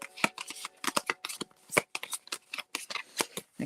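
Playing cards being shuffled during a tabletop game of Koriko, a rapid run of crisp riffling bursts, close and fairly loud, with no voices over them.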